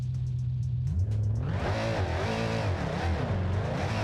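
A car in the BeamNG Drive video game with failed brakes, engine droning at a steady pitch, then revving and wavering up and down as it keeps rolling, loud and close, no speech.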